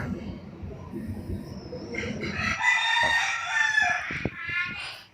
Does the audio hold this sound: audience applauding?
no